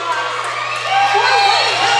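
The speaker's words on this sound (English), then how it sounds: "The crowd is going bananas." A roller derby crowd roars and cheers at a 2014 Mayday Mayhem bout between WTRD and Happy Valley, with steady loud cheering, whoops and high children's shouts filling the whole stretch.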